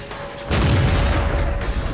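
A tank takes a hit during a World of Tanks tournament match: one sudden, loud, deep boom lands about a third of the way in and rolls on as a sustained, heavy rumble to the end.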